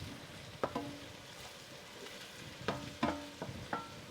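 Spoon stirring tomato paste and garlic in a cooking pot, faint low sizzle underneath with a few sharp scraping clicks against the pot, irregular and close.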